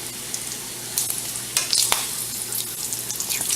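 Bacon strips sizzling in a frying pan, a constant bright hiss and crackle with a few scraping stirs and turns, close up and without talk.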